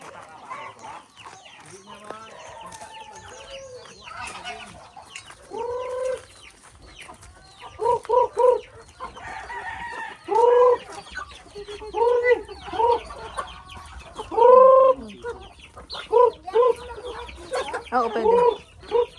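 Native chickens clucking repeatedly on a farm, close and fairly loud in irregular bursts, with soft background chatter from people nearby.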